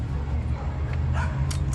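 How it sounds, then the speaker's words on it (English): A pack of dogs at a nearby dog-washing place barks and yips in short, scattered bursts over a steady low engine-like hum, sounding a short distance off rather than right up close. "A lot of dogs over there."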